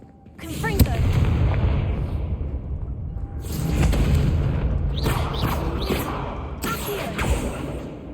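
The Confringo fire spell goes off in Hogwarts Legacy with a sharp blast, then rumbling booms and whooshing bursts continue, joined by several more bangs and crackling flares toward the end, loud and close.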